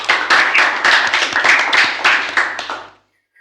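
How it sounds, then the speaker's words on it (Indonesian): Applause from an audience at a vocational school program, a burst of many hands clapping loudly and steadily for about three seconds, then stopping abruptly. "Tepuk tangan dulu dong buat"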